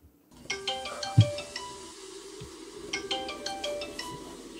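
A telephone ringtone plays a repeating electronic melody at close range, sounding in two bursts with a short gap, over faint room noise and a couple of soft thumps.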